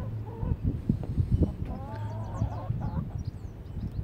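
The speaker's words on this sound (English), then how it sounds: "Oh, there are little chickens, or lots of little chickens." Small laying hens, Buff and Lace Orpingtons among them, clucking and squawking close by in a rapid, busy chatter, with a low steady hum underneath and some voices.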